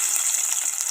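Tempering seeds splutter in hot oil at the start of a broad bean and tomato curry, a brief, loud, steady sizzling hiss heard up close with no voices.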